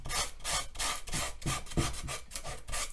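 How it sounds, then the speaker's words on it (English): Hand sanding a wooden furniture surface during repair: steady back-and-forth rasping strokes, about ten in three seconds, close and fairly loud with no talking. "So what I'll do is sand"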